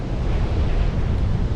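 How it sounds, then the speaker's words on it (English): Strong southwesterly wind blowing at sea around 20 knots on a chilly dawn fishing trip, a steady loud roar buffeting the microphone with surf-like rush throughout, no voices. "Got a very strong southwesterly wind blowing at about 20 knots per hour"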